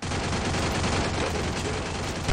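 Dense, continuous gunfire in a frantic fast-paced video game match, a steady roar of overlapping shots with no pauses, loud throughout.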